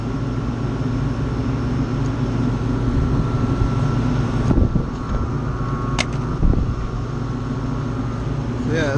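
Rooftop exhaust hood fan running steadily on a newly installed motor, a constant close mechanical drone with tonal hum, briefly overlapped by a few soft knocks and a faint voice.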